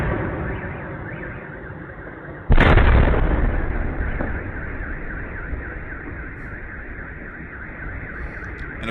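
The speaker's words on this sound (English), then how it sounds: "And of course the car alarms are going off." A war-zone explosion booms suddenly, then car alarms wail in repeating rising and falling cycles, loud and continuous through the rest of the scene, with no talking.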